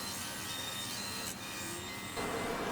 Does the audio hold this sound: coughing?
no